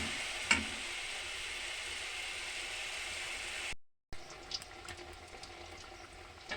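Mango malpua batter frying in hot oil, a steady broad sizzle with a brief sharp crackle early on, a short break, then a softer fizz with scattered small pops and clinks.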